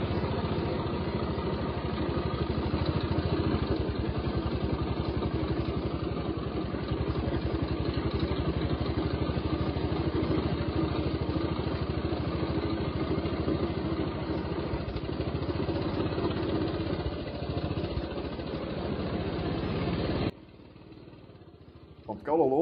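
A 1935 Panther M100 motorcycle engine running with the clutch pulled in, a steady close chugging thump that holds for about twenty seconds before dropping away, then a brief clunk.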